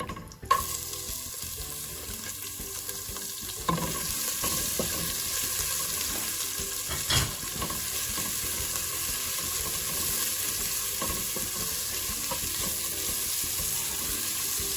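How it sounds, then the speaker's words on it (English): Sliced onions fry in a pan for a chicken and mushroom kebab curry, with a steady close sizzle throughout. A few sharp clinks and stirring knocks break in near the start and middle. "once again we're going to add some sliced onions"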